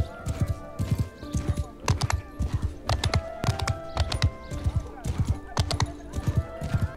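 Horse hooves clip-clop steadily in the Mount & Blade Bannerlord video game, a close, repeating rhythm of sharp clops in quick pairs with someone talking over them.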